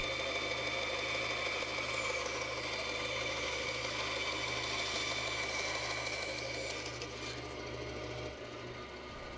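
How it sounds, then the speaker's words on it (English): A bandsaw cuts away excess wood while shaping a wooden drill stop, giving a steady, loud mechanical whine and hum that holds throughout before easing slightly near the end. "Next, cut away the excess material. I prefer the bandsaw for this."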